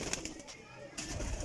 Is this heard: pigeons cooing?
yes